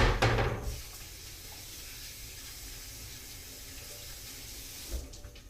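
Running tap water pours steadily into a metal pot for Kolhapuri misal, a brief louder splash at the start, then an even rushing flow, close by.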